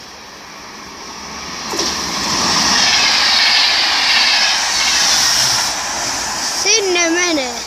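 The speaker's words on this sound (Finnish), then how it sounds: "Ja taas juna junan perään." A train passes close by, a broad rushing roar that swells and holds for several seconds, with a rising whine near the end; a voice is briefly heard alongside.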